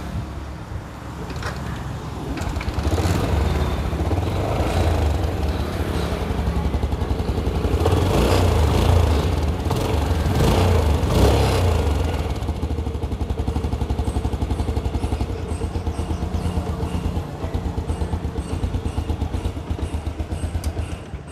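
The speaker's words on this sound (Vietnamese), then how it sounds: "Mình đã nổ máy rồi đó các bạn." A Yamaha Exciter 135 motorcycle engine idles after a kick-start, a steady close mechanical putter with some clatter that swells slightly in the middle and then settles, running alone for about twenty seconds.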